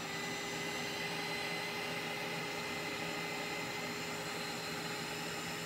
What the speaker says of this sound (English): This is just a hot air gun, okay? Heat gun, blow dryer, anything similar will work.